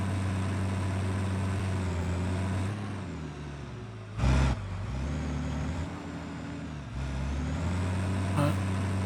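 Low steady drone of a truck engine driving in the factory-building video game Satisfactory, with gear shifts changing the pitch and a brief hiss of air brakes midway, continuous and close with no talk.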